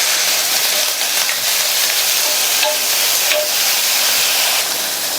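Eggplant being stirred in a hot pan on the stove for a village-style curry: a loud, steady sizzle and hiss close up, with faint scraping of the stirring under it.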